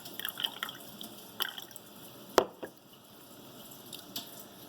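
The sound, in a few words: rinsing a knife with water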